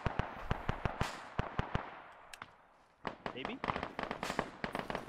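Grenade explosions in the military simulation game Arma 3, a series of sharp bursts and cracks going off repeatedly across the clip, nearby and loud, with a short lull near the middle and people talking over them.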